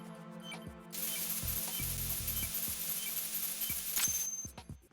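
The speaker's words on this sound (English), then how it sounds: "Why won't the spray work?" Coolant spray hisses steadily in Metal Gear Solid 2, a loud continuous burst running for about three seconds over game ambience and mechanical clicks, then cutting off.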